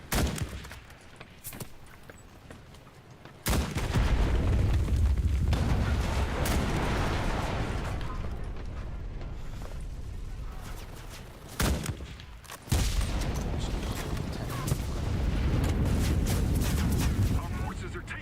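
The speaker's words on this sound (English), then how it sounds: "Like an airstrike or some shit?" Airstrike explosions in Rainbow Six Siege gameplay boom loudly in a few heavy bursts with rumbling decay, mixed with a player talking over the game audio.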